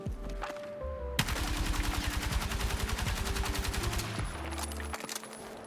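L85 A3 assault rifle in Battlefield 6 emptying a thirty-round magazine in one steady, rapid automatic burst lasting about three seconds, loud and close, framed by quiet handling sounds.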